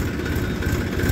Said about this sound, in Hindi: ट्रैक्टर आ रहा है दोस्तों